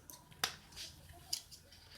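Scissors snip through a folded sheet of A4 paper, giving two sharp, close cuts about a second apart over faint rustling of the paper, with no voices.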